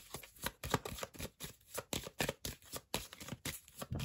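Tarot cards being handled and shuffled from a deck make a rapid series of soft, close papery flicks and riffles in uneven bursts, with no speech over them.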